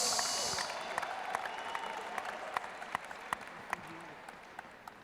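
An audience at a youth leaders' talk in Brazil applauds with steady, dense clapping that holds throughout, a few sharper individual claps popping out near the end as it slowly fades.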